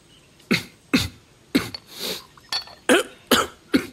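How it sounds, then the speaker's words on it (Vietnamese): A man coughs repeatedly, about nine separate close coughs spaced at a fairly regular rhythm, each a sharp burst with no talk between them. "Ho quá trời á."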